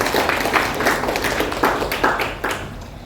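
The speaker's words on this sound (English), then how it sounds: "Please give applause to both of them." Conference attendees applaud two visiting university guests at a discussion forum. The clapping is moderately loud, with some distinct individual claps standing out from the crowd.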